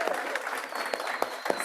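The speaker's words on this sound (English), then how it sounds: "join me in giving a round of applause to Grant." Guests at a November riverside reception give a round of applause. The clapping is soft and somewhat distant, a steady patter with a few sharper individual claps standing out.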